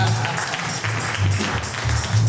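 Applause from a church congregation during a sermon: a dense, steady wash of many hands clapping that fills the whole stretch without a break, with a low hum underneath.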